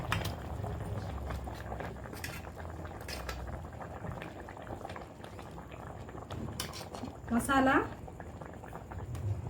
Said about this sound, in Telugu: మరుగుతుంది కదా చేపల పులుసు.